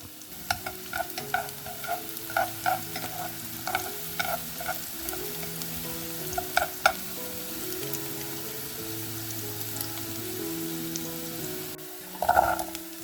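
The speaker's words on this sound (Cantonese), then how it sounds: "熱鍋熱油， 倒入啲洋蔥粒，炒得香味。" Diced onions stir-frying in hot oil in a wok, a continuous loud sizzle broken by frequent scraping spatula strokes, with a sharper clatter near the end and no talking.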